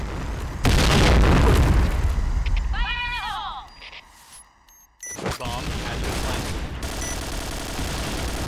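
Grenade explosion and gunfire in the Piercing Blow shooter game, with a loud burst of booms and shots opening the clip, a brief lull, then a second sharp blast followed by continuing gunfire, alongside short electronic effects.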